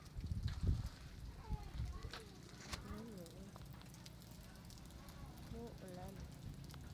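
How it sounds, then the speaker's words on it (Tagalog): Rain falls during a stormy night, a steady patter and crackle on surfaces nearby, with a louder bump at the start and faint voices talking in the background. "Ulan."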